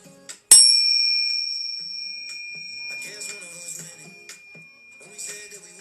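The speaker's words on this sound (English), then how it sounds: "I'm just going to clank these little bells." Small metal bells clank once sharply, ringing out with a long sustained shimmer that slowly fades, followed by faint light jingles and a few soft taps.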